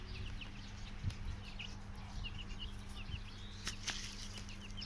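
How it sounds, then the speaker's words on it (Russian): Small birds chirp in quick, high, scattered calls outdoors on a spring day, faint over a low background rumble. "Птички. птички. Птички."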